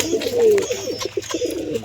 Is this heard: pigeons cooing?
yes